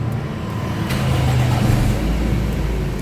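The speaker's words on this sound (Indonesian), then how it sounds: "Kita coba nyalain mesinnya." A car engine idles with the radiator filled with water and its lower drain opened, giving a steady, close, continuous rumble with no speech.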